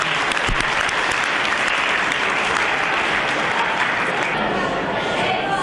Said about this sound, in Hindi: तो सर के लिए एक बार जोरदार तालियां